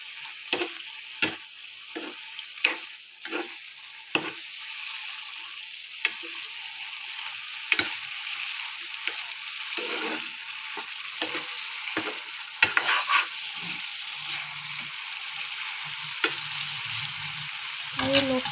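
Fried fish pieces cook in a pan, giving a steady close sizzle with sharp clinks and scrapes of stirring scattered throughout, without talk.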